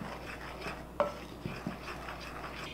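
A banana, cinnamon and salt mixture being stirred in a bowl, soft scraping strokes with a couple of light clinks of a utensil against the dish, quiet and close.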